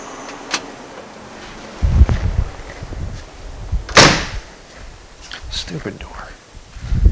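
A door slams on a 1955 car in a workshop: one sharp, loud bang midway, set among softer clunks and handling noises.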